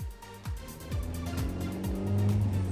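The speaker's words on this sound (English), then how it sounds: "The more you accelerate your car, the harder the engine sounds." Engine of a manual-transmission car revving up during a driving lesson, with a rising tone that climbs repeatedly in quick surges as the car accelerates, close and moderately loud with no talk.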